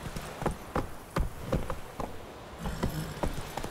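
Hooves of the horse Roach pound in a quick galloping rhythm in The Witcher 3, a run of sharp clip-clop beats close by, regular and fairly loud, with no talk over them.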